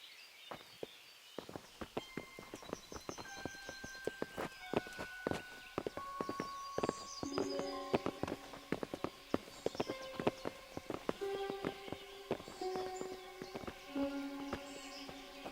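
Horses' hooves clip-clop at a walking pace in Kingdom Come Deliverance, a steady run of crisp close hoof strikes, with faint birdsong and tonal game music underneath.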